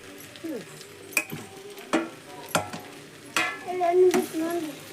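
Potato palya with chopped coriander being stirred in a pan, with a few sharp scraping clacks of the spoon against the pan over a soft background sizzle, close and moderately loud, with no talking.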